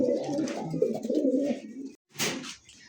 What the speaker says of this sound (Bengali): দেখবেন ড্যানিশের একটা পেয়ার আছে, কবুতর দুইটা দেখেন